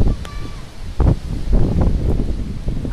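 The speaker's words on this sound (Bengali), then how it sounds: "প্রচন্ড জোরে হাওয়া দিচ্ছে আমাদের দিয়ে" Strong Kalbaisakhi storm wind blows in gusts, buffeting and rustling with rough broadband roaring that swells and surges over about three seconds, loud and near.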